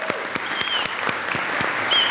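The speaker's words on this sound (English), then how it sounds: "can we just get a round of applause for the mayor for hanging with us on Earth Day?" Audience applause for the mayor at an Earth Day celebration, a steady wash of clapping with a few sharp individual claps standing out close by.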